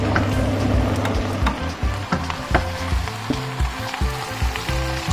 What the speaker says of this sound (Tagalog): Naririnig nyo ba yung sizzling? Yung sizzling ng mantika at ng sabaw.